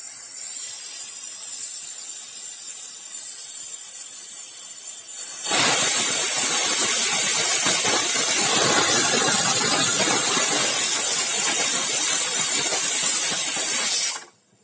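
A kitchen pressure cooker on a stove, cooking kheer, lets out one loud, continuous steam whistle and hiss that starts abruptly, holds steady for about nine seconds and then cuts off, after a quieter background hiss.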